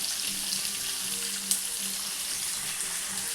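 Fish frying in a small amount of oil in a pan, a steady close sizzle with a brief sharp clatter midway as a piece is turned over.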